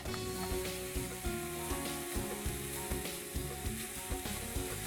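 Jaggery and grated coconut heat together in a pan for a modak filling, giving a steady close sizzle with faint rhythmic stirring taps throughout.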